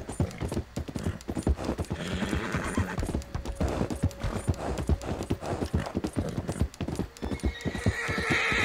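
Horse hooves clip-clop at a steady trot across a bridge in Red Dead Redemption 2, loud and close, with occasional whinnies and snorts and game ambience underneath.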